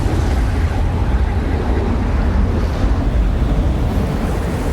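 Ocean surf breaking against the coast in a steady, continuous wash of crashing waves, loud and close, with wind buffeting the microphone throughout.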